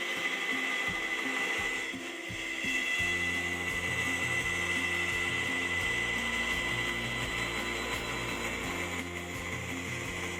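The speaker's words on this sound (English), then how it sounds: "I just gotta do this quickly on the bandsaw." A bandsaw runs with a steady high whine while cutting curves in wood for a saw bench, the pitch dropping into a lower loaded growl as the blade bites into the wood and holds there.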